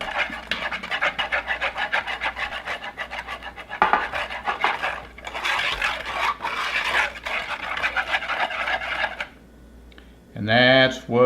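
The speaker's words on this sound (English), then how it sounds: "Lime, seasoning, pineapple, beer. That's it. We're going to whisk it up." A lime, seasoning, pineapple and beer marinade being whisked in a bowl, a fast steady scraping and clinking rhythm that pauses briefly, then a short burst of speech at the end.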